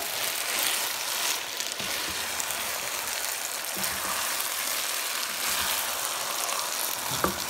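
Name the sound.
stirring rice and meat in a pot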